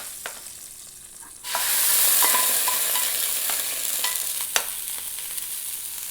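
Curry leaf tempering hits a pot of Mangalorean chicken curry with a sudden loud sizzle that hisses steadily, with light stirring scrapes and clinks close by and no talking.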